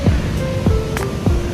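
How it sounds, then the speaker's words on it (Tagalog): Ocean waves wash onto a beach in a steady surging roar, with a few rhythmic low thumps as swells break close by and no voices over the surf. "ang ganda-ganda lang titigan ng alon"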